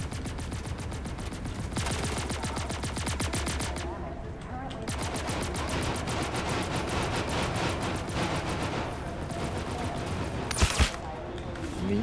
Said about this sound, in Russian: первая стрельба.